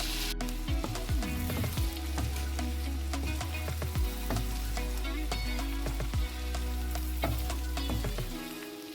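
Garlic butter with parsley sizzles and pops steadily in a pan over medium heat, a loud continuous frying hiss with frequent sharp crackles and spits throughout.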